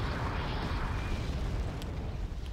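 Explosion in the Wargame Red Dragon video game as a Challenger tank fires on and destroys a T-72, a loud, dense rumbling roar that sustains and slowly thins over a couple of seconds.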